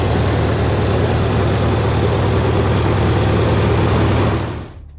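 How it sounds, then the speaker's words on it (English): An old International Harvester 1020 tractor engine runs steadily, a loud, close, continuous low chugging drone that holds even for about five seconds before cutting off abruptly at the end. "chugging away with that distinctive sound of an old IH engine."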